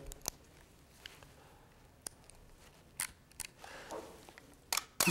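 A camera's shutter clicks while the lens is zoomed during a slow-shutter exposure, heard as faint isolated clicks with a louder burst of shutter and handling noise near the end, no talk.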